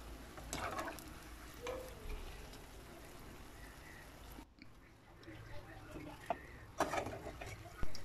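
Beignet dough frying in hot oil, a soft continuous bubbling sizzle with stirring scrapes and small clinks, close but quiet, with someone talking over part of it.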